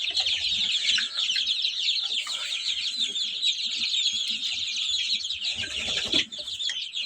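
A flock of Kuchinsky chickens clucks and chatters continuously in a poultry shed, a dense, busy layer of overlapping calls close by.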